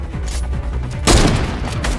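Minigun fire in the Fortnite video game, a dense rapid burst of gunshots with a loud blast about halfway through, close and continuous over two seconds.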